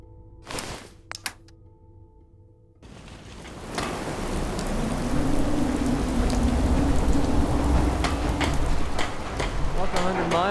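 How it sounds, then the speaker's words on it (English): Steady rain and rolling thunder from the video game Fallout 4 build from quiet into a dense, continuous wash of rainfall, after a few short sharp sounds at the start. "Hope this rain lets up soon."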